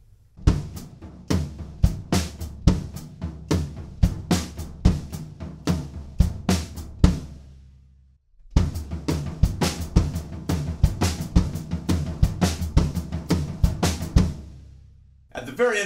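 A drum kit plays a song's tom pattern, with offbeat hi-hat chicks from the left foot under dense, rolling tom strokes. The playing is loud and close, pauses briefly midway, then continues.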